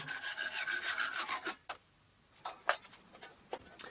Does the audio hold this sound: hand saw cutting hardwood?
yes